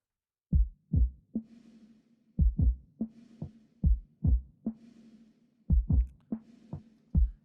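Punchy processed drum hits, deep kicks paired with snappier snare strikes in a loose repeating groove, with a faint sustained tone ringing underneath.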